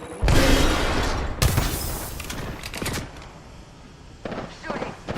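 Loud gunfire in a video game, with a heavy opening volley, a second burst soon after, then quieter scattered shots trailing off as a voice talks over them.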